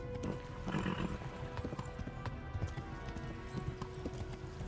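Horse hooves galloping in the Kingdom Come: Deliverance video game, a fast, steady clip-clop with a brief neigh near the start, all under continuous game noise.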